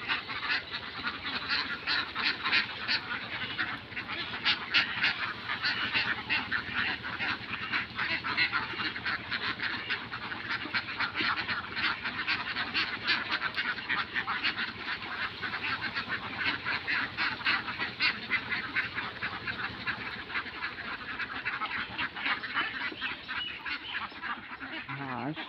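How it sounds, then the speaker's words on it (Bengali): A large flock of ducks feeding in a field quacks and honks continuously and densely for the whole stretch, many birds overlapping at close range. "অনেক হাঁস আছে দেখুন।"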